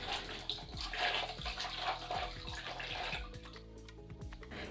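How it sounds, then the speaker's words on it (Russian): Tap water splashing and running as shower head parts are rinsed after soaking in citric acid, close and continuous with shifting gurgles and drips, easing near the end. "После замачивания промойте все водой"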